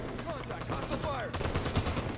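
Hostile gunfire in the Halo 5 video game, a fusillade of shots and burst noise scattered over ambient combat sound at moderate level, with no clear single report standing out.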